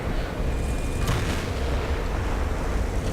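A tank in a video game fires high-explosive shells on the Kharkov map, with a loud booming blast about a second in over a dense, rumbling battle din.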